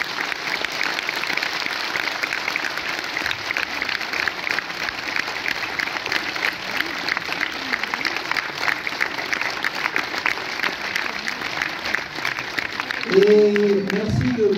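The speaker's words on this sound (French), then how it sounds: "Il faudrait qu'on les applaudisse encore super fort." A film festival audience applauds continuously, a dense steady clatter of many hands clapping in a hall, with a voice entering near the end.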